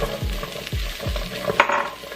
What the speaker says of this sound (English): you're going to take your carrots and add your carrots in